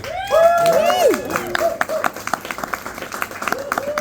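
Clapping from a stand-up comedy audience, scattered hand claps rising under whoops and voices, then thinning into sparse claps near the end.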